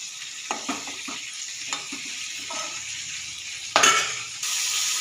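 Pointed gourd (potol) pieces frying in a pan, giving a continuous sizzle broken by scrapes and knocks of a spatula, then a louder clatter as a lid or utensil is moved near the end.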